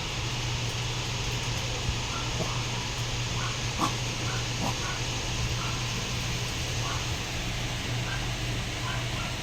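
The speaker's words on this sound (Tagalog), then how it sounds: "Kumakahol ang aso ng kapitbahay, pati ikaw nakikikahol." A neighbour's dog barks somewhere outside, a few faint, scattered yelps sitting under a constant low hum and broadband room noise.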